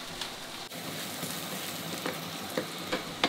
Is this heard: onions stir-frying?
yes